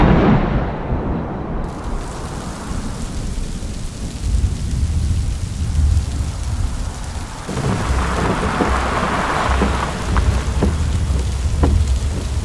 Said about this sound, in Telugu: వర్షం కూడా పడేటట్టుంది